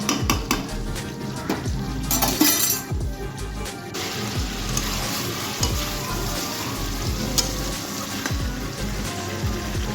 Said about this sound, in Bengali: আলুর সঙ্গে মাংসটা আবারও কিছুক্ষণ কষিয়ে নেবো